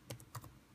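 Several quick keystrokes on a computer keyboard, clustered in a short burst of clicks at close range as a command is entered in Command Prompt while setting up a Windows 8 install onto a new SSD.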